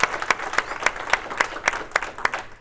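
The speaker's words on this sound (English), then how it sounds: "How about a round of applause for our partners?" Audience applause at a community youth recognition event, a short burst of steady clapping from a modest crowd in a room, fairly loud and close.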